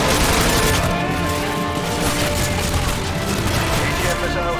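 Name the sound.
AGM missile strike explosion, video game Call of Duty: Modern Warfare 2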